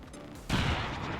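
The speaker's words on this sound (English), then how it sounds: "Launching grenade." A grenade launched and exploding in XCOM 2: a quiet lull broken by a sudden sharp blast that rolls on as a loud, noisy rumble, with no talking.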